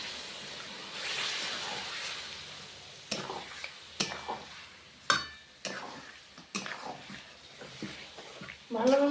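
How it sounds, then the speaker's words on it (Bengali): Mutton sizzling and being stirred in a pan with ginger and garlic paste and a little water for a Bengali khasir mangsho curry, a steady frying hiss broken by clinking spoon scrapes against the pot. "হালকা জল দিয়ে দেবো। আর ভালোভাবে কষে নেব।"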